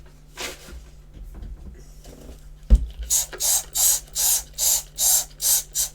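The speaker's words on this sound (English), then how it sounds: "Just give that another spray" After some faint handling noises and a soft thump, a spray bottle fires seven or eight quick, hissing bursts in an even rhythm, close up.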